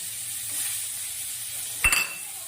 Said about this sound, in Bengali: মশলাটাকে আরও ভালো করে কষিয়ে নেব